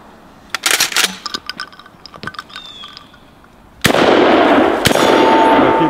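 A double-barrel pump shotgun being fired. Sharp metallic clacks and clicks come first, then a loud blast rings on into a sustained noisy tail, and a second sharp crack follows about a second later.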